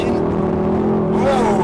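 Mercedes-AMG C63 S with a loud, steady engine drone as its rear wheels spin under power, heard from inside the car while a person talks over it.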